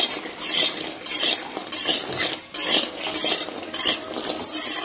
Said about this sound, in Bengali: ডালের বড়াটা একটু লাল লাল করে ভেজে নেব